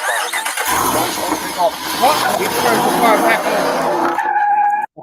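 A stolen car accelerating hard as its engine roars and its tires squeal and skid, loud and close for several seconds, with voices talking over it before it cuts off abruptly.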